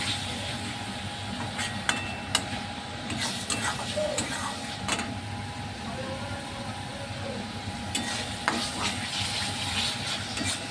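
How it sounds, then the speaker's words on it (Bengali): Spice masala frying dry in oil with a little sugar in a pan, a steady soft sizzle with occasional scraping and stirring clicks, fairly faint and close. "এখন মশলাটাকে ভালো করে ভাজবো শুকনো শুকনো করে"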